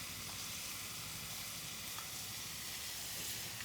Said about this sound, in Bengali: আমি এই 6টা ডিমকে আমি এখন আবার একটু ভুইনে নেব